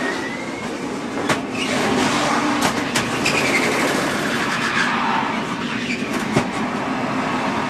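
Onboard engine roar from a NASCAR stock car racing in the Daytona 500, a steady loud drone with brief sharper bursts, heard alone with no talk.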